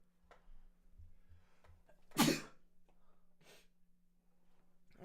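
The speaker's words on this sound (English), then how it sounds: "I'm about to sneeze." A single sharp, loud sneeze bursts out close to the microphone during a live talk show, preceded by a few short sniffs and breaths and followed by quiet, with a steady low hum in the background.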